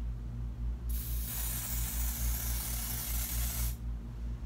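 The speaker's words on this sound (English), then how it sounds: "I'm going to spray it on my palette and then use a sponge." A steady hiss of spray foundation onto a makeup palette lasting about three seconds, close by, starting and stopping abruptly over a low background hum.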